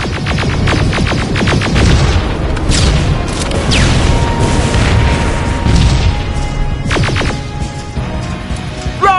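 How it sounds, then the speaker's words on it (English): Rocket explosions in the Terminator Resistance video game: dense, continuous booming and crashing blasts with rumbling low end, loud and close throughout, with no voices. "Rockets! They're heading this way!"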